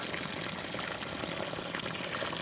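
Water pours steadily into a concrete mix for a precast sample, a continuous close gushing splash with no break and no talking.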